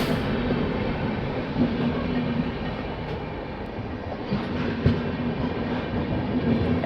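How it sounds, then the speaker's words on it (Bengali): The NJP Chennai Central Weekly Express rolls on with a steady, continuous low rumble and faint rail clatter heard from inside, unbroken and without talk. "NJP Chennai central weekly express"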